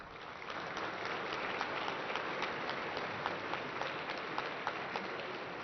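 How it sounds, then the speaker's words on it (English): Sustained applause from a large audience at an awards banquet for national finals, dense steady clapping throughout with a few sharper individual claps standing out, moderately distant in a big hall. "They all deserve a round of applause."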